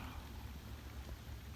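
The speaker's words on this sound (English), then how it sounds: "the rain isn't good, but it could be worse" Steady rain falls on a canoe trip along the Connecticut River, a soft continuous hiss with low rumbling, heard alone at a moderate level without any voices.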